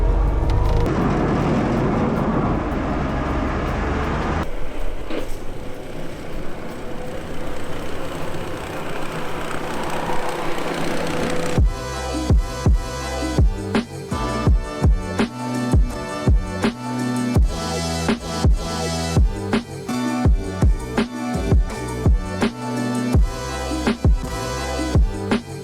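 Snow plow blade scraping a road during deep snow clearing behind a Duramax truck: a long grinding roar that turns into harsh, rattling, clattering scrapes with irregular loud bursts, close and continuous.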